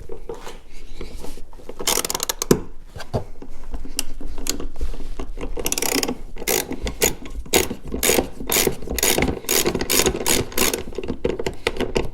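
A ratchet wrench undoes the bolts on a golf cart seat, fast rhythmic clicking and whirring in close, loud bursts that run almost continuously, with short pauses between strokes and no talk.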